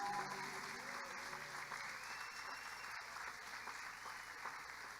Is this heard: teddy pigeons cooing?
no